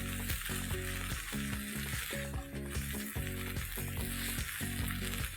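Thick tomato gravy, salted, sizzles and fries in a pan while being stirred, a loud continuous crackle broken by repeated scraping stirs in an uneven rhythm, with no talk.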